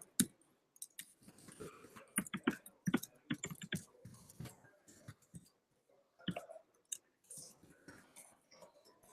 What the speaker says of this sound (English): I'm just gonna start typing in JavaScript for now.